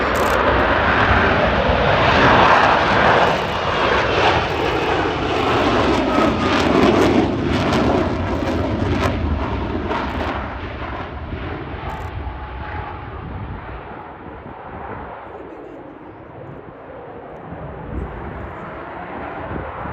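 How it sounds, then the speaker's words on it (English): An F-35B Lightning jet flying past at an airshow in landing configuration with gear down, a loud continuous roaring engine rumble that slowly fades and softens toward the end. "Here you can see the aircraft in its landing configuration. The gear is down."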